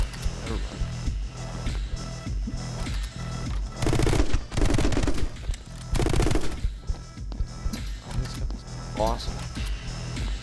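Rapid automatic gunfire and explosive bursts in a first-person shooter video game, dense and loud in several sustained volleys, with bursts of game sound effects running throughout.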